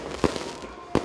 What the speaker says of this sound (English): people were treated to a fireworks display.